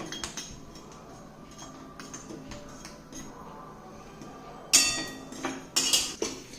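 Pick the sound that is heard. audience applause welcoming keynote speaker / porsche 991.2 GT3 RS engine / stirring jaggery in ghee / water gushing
stirring jaggery in ghee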